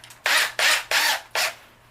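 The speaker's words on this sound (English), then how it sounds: "and go ahead and line it up right there and drill the hole." Four short, loud bursts of a power drill whirring in quick succession while drilling a hole in a Bluetooth boombox cooler, each cutting off abruptly, with no talking.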